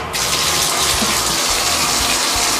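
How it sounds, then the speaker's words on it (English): Water gushes steadily from a tap into a filling bathtub, a loud continuous broadband rush that holds evenly throughout with no voices. "Jeffy, I started your bath"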